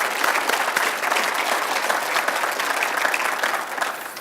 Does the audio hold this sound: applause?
yes